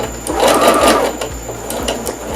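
A sewing machine stitches in short rhythmic bursts, its needle tapping quickly and evenly at close range for a couple of seconds, with no voices.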